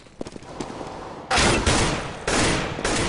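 Bursts of automatic gunfire from a Counter-Strike match, loud rapid volleys in several sustained bursts with brief gaps, after a few sharper isolated shots.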